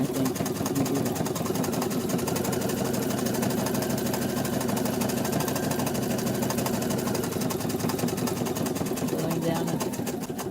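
A sewing machine satin stitching applique hums in a continuous, fast stitching rhythm throughout, close and steady, with a person talking over it.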